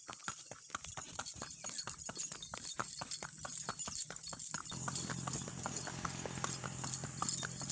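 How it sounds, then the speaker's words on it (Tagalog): A horse's hooves clip-clop steadily and close by, a brisk, even rhythm of sharp knocks continuing throughout as the animal labours along a long uphill climb. "Hapo rin ang kabayo sa haba na ng nilusong talaga."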